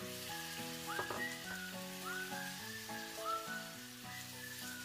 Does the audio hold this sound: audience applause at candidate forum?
no